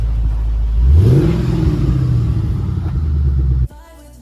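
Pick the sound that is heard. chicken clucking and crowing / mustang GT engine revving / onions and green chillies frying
mustang GT engine revving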